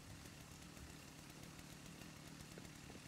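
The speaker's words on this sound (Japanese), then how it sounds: "チェーンソー持ってないじゃん、音だけしてて。" A zombie's chainsaw in the online survival game Rust makes a faint, steady buzzing drone. It runs continuously with no breaks and no voices.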